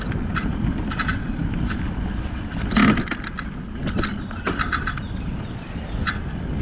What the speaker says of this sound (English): Disc brakes are still noisy.